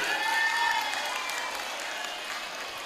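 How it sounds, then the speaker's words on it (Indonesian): An audience at a Maulid Nabi religious gathering claps, a dense burst of applause that is loudest at the start and then tapers slightly while it continues. "Tepuk tangan untuk Bu Supini."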